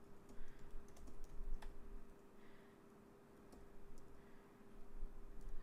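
Computer keyboard typing in quiet bursts of soft key clicks, faint and close, with short pauses between runs over a steady low hum.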